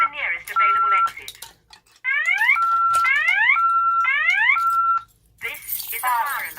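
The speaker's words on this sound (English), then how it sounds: "and we'll test push station here. Fire alarm." A Tyco/ADT Safewatch Pro 3000EN fire alarm sounds during a test, loud and close, with repeating sweeping electronic whoops and steady tones cycling over several seconds, broken by a brief gap and overlaid with a spoken evacuation message.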